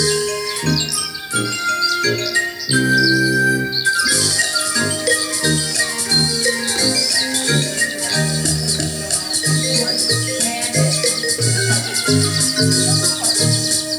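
A splendid bird released from a cage, singing in a lilting voice: bright chirps and twittering trills over tinkling, jingly background music, fairly close and continuous.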